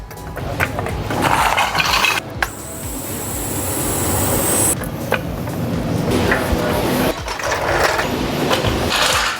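BMW 328i F30 with N20 engine being jacked up and eased down off jack stands in a garage: continuous mechanical ratcheting and clunking throughout, with short pauses and a loud steady whine in the middle, close and fairly loud.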